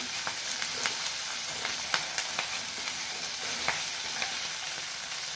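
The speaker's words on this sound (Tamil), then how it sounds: "இப்போ கருவேப்பிலை சேர்த்துக்கிறேன் அதை கொஞ்சம் நேரம் வதக்கவும்" Curry leaves sauté in a pan for a kara kuzhambu, a bright, dense sizzle hissing continuously with occasional sharp pops and stirring clicks, close and fairly loud with no voices.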